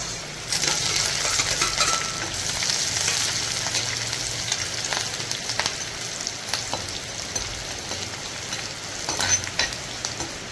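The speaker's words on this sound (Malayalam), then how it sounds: "നമുക്ക് ആവശ്യത്തിൻ്റെ ഇഞ്ചിയും വെളുത്തുള്ളിയും പച്ചമുളകും കറിവേപ്പിലയും അതും കൂടി ചേർത്ത് കൊടുക്കാം." Ginger, garlic, green chilli and curry leaves fry in hot oil for a Kerala-style fish curry, giving a steady, close sizzle with scattered stirring clinks of a utensil against the pan.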